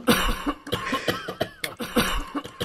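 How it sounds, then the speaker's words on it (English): Repeated coughing during a Roblox roleplay game session, several short bursts close together and fairly loud, with some background game sounds. "Why are there so many coughing?"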